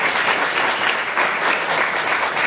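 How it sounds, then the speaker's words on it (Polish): Steady applause from a crowd, dense clapping that carries on evenly throughout without pause. "Wielkie brawa."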